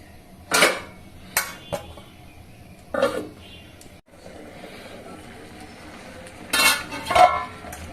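Metal clanks and scrapes as a lid goes onto a cooking pot of vegetable dalia khichuri, a few sharp clinks spread apart with a quiet pause between them.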